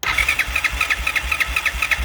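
A 2006 Yamaha Bruin 350 ATV starter motor whirs and cranks the engine in a steady rapid pulsing rhythm, close and fairly loud, with no voices.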